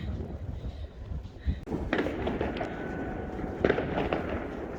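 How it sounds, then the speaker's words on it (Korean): Fireworks burst across Moscow on New Year's, with scattered booms and crackling pops at varying distances, a couple of sharper nearer bangs standing out over a noisy outdoor background. "전 러시아에 지금 여기저기서 폭죽 소리가 날 겁니다"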